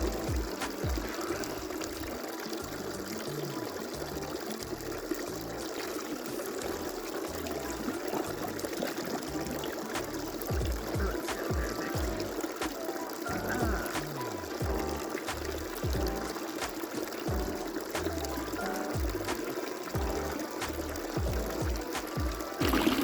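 Water spilling steadily from a small waterfall pool filter into a homemade tub, a continuous splashing trickle with a constant wash of noise and no pauses, close by and fairly even in level throughout.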